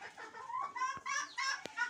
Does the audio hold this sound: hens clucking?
yes